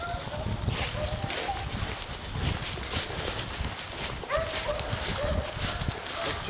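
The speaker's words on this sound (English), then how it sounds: "There's two dogs there." Two hunting dogs trailing rabbits in open country near Brazil, Indiana, bark and bay at a distance amid steady outdoor noise, with people talking over them.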